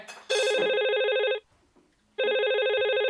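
Electronic phone ringtone plays in two loud bursts, a bright warbling trill that runs about a second, breaks off for a short quiet gap, then starts again.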